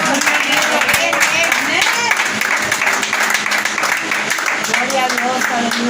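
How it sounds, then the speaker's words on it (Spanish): A church congregation applauds for the Lord in a dense, steady wash of clapping lasting several seconds, with voices mixed in underneath. "Denle un aplauso al Señor"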